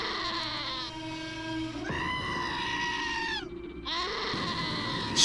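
Goat in the video game Wasteland 2 gives loud, drawn-out wavering bleats, one after another, close and clear over a low game ambience.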